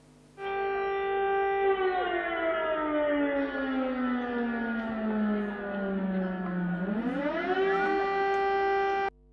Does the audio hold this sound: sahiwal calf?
no